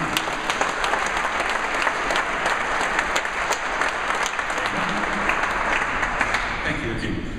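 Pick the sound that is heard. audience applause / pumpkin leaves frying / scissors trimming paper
audience applause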